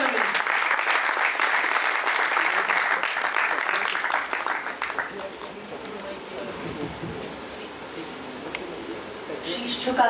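An audience at a national kavi sammelan and mushaira claps steadily and loudly to welcome a young poet onto the stage, then the applause thins and fades to scattered claps.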